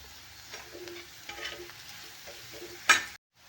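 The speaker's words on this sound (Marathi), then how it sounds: "हे कांदा मी चांगला परतून घेणार आहे" Chopped onion sautés in a pan for a chutney, with a soft sizzle under repeated spatula scrapes and stirs, then a sharp metallic clack near the end before the sound cuts off.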